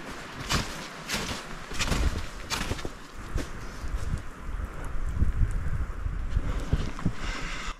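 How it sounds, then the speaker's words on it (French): Gusty wind rushes through tree branches on a mountain trail in the Adirondacks, New York, in uneven surges, rising and falling over several seconds with a rustling, blustery texture. "On entend le vent souffler dans les branches"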